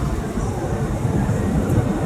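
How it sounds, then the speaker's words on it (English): An approaching train makes a continuous low rumble that builds slightly, heard outdoors with steady roar and a faint mix of other background noise. "I hear a train coming. Here it comes."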